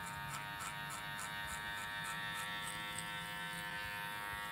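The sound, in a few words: electric hair clipper cutting a boy's hair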